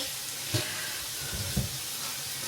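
Food frying in butter in a pan gives a steady, close sizzle and hiss throughout, with a couple of soft clinks and scrapes as it is stirred.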